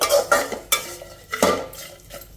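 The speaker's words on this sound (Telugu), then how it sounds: "జస్ట్ ఆ వేడి మీద ఒకసారి కలిపేసేసుకోవాలి" A spoon scrapes and clinks against a hot pan while stirring a fry of dried salted fish, several sharp metallic knocks spaced unevenly over a faint background.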